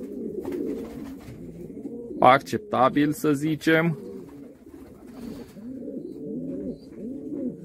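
Pigeons cooing in an aviary, a soft, steady low murmur of coos running throughout, with someone talking over it.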